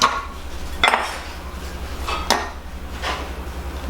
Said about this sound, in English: we're going to spoon that into that bowl